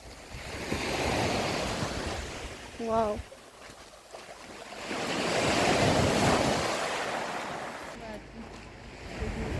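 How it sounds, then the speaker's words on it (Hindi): Evening ocean waves on the open sea, surf swelling and receding in long washes with wind across the microphone, under a few words of talk. "खुला समंदर हो सामने"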